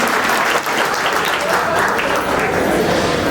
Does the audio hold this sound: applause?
yes